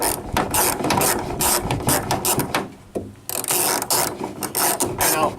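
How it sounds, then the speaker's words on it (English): A ratchet with a 15mm socket clicks rapidly and repeatedly while fastening the cover back onto a branch guard mount, close up, with bursts of ratcheting and a brief pause midway. "Now we're going to switch back to the 15mm socket, and we're going to put our cover back on"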